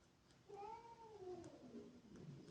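A cat grumbles indoors in a home: one drawn-out, wavering moan with a bending pitch, close and fairly loud, with no talking, over a low steady room hum.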